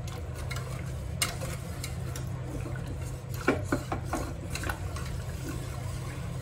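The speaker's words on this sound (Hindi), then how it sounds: "इसको अच्छे से हम चलाते चलाते मिक्स भी कर लेंगे" A spoon scrapes and stirs around a pan as chocolate melts into warm milk over a low flame, giving repeated rasping rubs with a few sharper clinks over a low steady hum, no talking.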